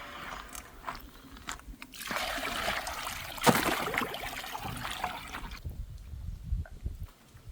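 Water splashing and trickling into a container while filling it outdoors in winter for highland livestock and chickens, a steady rushing pour that swells midway and tapers off into quieter dribbles.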